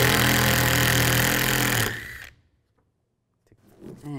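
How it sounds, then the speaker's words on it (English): A 13mm socket on a power tool spins out a tailgate bolt on a 2007-2013 Chevy Silverado 1500. A loud, steady whirring runs for about two seconds, cuts off into silence, then faint handling clicks follow. "You want to remove this bolt. Use a 13mm socket."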